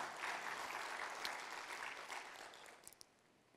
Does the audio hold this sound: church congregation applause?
yes